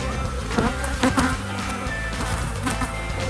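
A dense, steady buzzing of many honey bees in an opened hive during a spring inspection fills the clip, close and continuous, with a few louder individual bees passing near.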